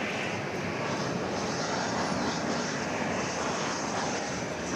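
An airplane making a go-around at Dallas/Fort Worth International Airport produces a steady, loud broadband jet roar that holds constant throughout, with no talking.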